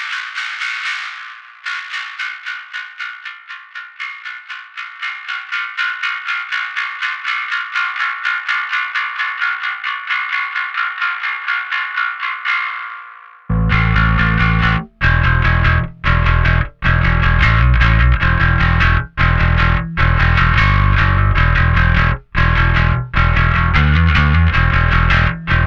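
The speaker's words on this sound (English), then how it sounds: "if you really just want to have a very metallic sound, we can go and grab the B3K again" Metallic distortion from the Anagram Entropia plugin with the B3K module and high band soloed: first a bright ringing tone pulsing rapidly, then a loud heavy distorted full-band sound in chopped bursts with short gaps.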